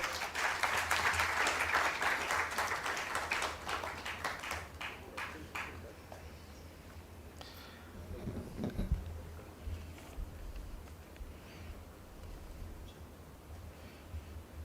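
Audience applause at a startup innovation conference, loud sustained clapping from a crowd for the first few seconds, then fading to scattered claps and room murmur.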